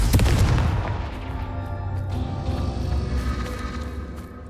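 Confringo blast spell fired in Hogwarts Legacy, played in a goblin mine: a loud booming detonation at the start with a long rumbling, crackling tail that lingers and slowly fades, with no talking.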